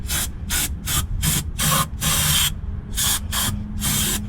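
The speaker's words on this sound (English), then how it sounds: "I've already hit it with brake cleaner. I'm gonna hit it with just a little more" Brake cleaner sprays in short, loud bursts onto opened VR6 transmission parts during reassembly, about nine hissing squirts of varying length separated by brief pauses, close to the can.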